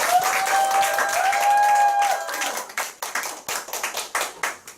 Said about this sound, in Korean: 열심히 강의 준비해 주신 우리 김혜선 사장님께 감사의 박수 부탁드립니다.